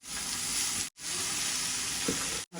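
Onions and cabbage fry in a pan with a loud, continuous sizzle, interrupted twice by brief silences, alone without any voices.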